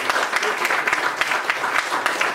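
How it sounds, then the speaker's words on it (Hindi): Audience applause for guru Hriday Merchant at a live musical event, a dense sustained burst of clapping from a crowd, steady and fairly loud throughout. "ये तालियां हम उन तक पहुंचाएंगे."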